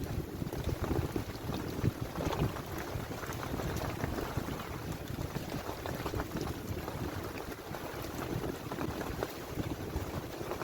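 Strong wind gusting around a makeshift outdoor shelter, a steady roaring rush with buffeting low rumble and crackling flaps, loud and continuous without any voices.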